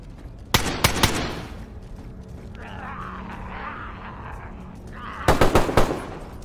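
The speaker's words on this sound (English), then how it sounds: "Shots, right side." Gunshots in the video game DayZ crack out in two quick rapid-fire bursts, one early and one near the end, loud against a quieter stretch of ambient noise between them.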